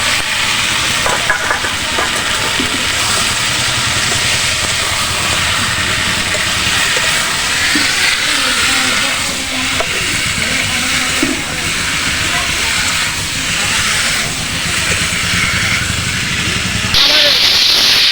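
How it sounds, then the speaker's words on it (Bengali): Potatoes sautéed with spices and a little sugar in a pan give a loud, steady hiss and sizzle throughout, with a faint voice in the background. "এবার আমি পেঁচে আলুটাও দিয়ে কষাবো"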